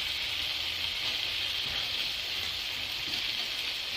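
Fried potatoes and mutton for mutton biryani cook in a hot pan, giving a steady, soft, even sizzle without voices.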